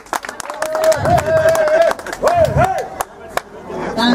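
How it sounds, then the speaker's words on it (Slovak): A crowd at a village gastro party applauds a competing team, with dense clapping swelling in two waves while an amplified voice speaks over it with rising, squealing tones. "veľký potlesk pre Šiša tým"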